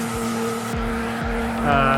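A Nissan 300ZX in the CarX Drift video game howls along with steady engine drone while its tires screech continuously, a loud sustained squeal with periodic low thumps from repeated shifts or bumps.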